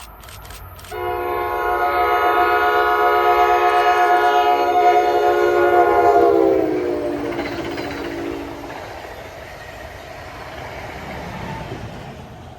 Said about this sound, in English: a southbound New Jersey Transit equipment move with a Comet 5 cab car leading a Comet set